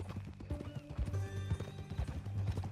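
A horse's hooves clip-clop at a steady walking pace in Red Dead Redemption 2, close and distinct, with a brief whinny and some game music or ambience underneath.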